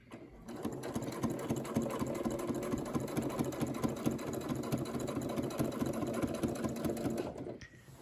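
A sewing machine runs steadily for about seven seconds, stitching in the ditch on a double fold binding, then slows to a stop.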